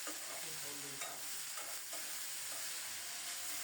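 Water spinach greens fry in hot mustard oil tempered with radhuni and chopped green chilies, a dense continuous sizzle with light stirring scrapes, close and steady, no voices.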